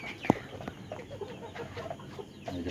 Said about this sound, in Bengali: এই যে ফাউমি আসছে মোরগ